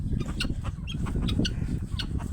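Several chickens cluck and chatter close by in a steady, busy murmur, with short sharp calls popping out over a noisy outdoor background.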